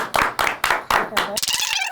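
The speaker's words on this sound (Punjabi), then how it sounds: "ਤਾੜੀ ਲਾਓ ਜਿੱਤ ਗਏ ਆਪਾਂ" A handful of people clap in quick uneven bursts at a comedy gathering, close and loud, mixed with excited voices and laughter.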